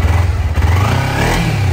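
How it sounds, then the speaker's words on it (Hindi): A 2010 Kawasaki Ninja motorcycle engine runs and revs close by at a used bike dealer, a steady loud low rumble with a slight rise in pitch and no talk over it. "स्टार्ट करके दिखाता हूँ आपको गाड़ी है।"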